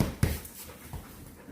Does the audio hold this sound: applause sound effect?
no